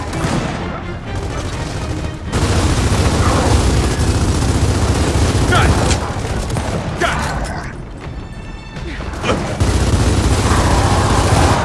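Gunfire in the video game Gears of War 4: bursts of rapid shooting and heavy mechanical booms over a dense, loud battle din, with a brief lull before the firing resumes.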